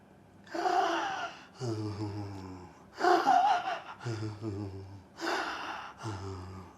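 A person imitates breathless gasping with about six heavy, rhythmic heaving breaths, close to the microphone. It comes during a Tamil interview with a Siddha herbal practitioner about breathing problems. No words are spoken.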